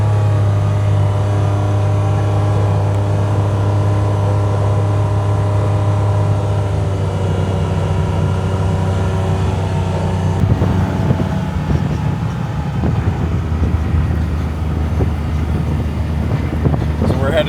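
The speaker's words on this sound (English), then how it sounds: "Let's go for a drive" Steady engine drone of a car heading out on the road to the garage, a low hum with rising road and wind rumble in the second half; no speech, constant and close inside the cabin.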